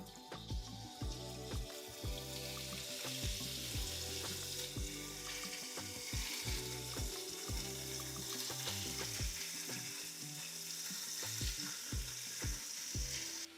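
Two pounds of chuck beef fry in oil in a pan with a loud, continuous sizzle and crackle, punctuated by frequent sharp knocks and scrapes of a utensil against the pan; no speech.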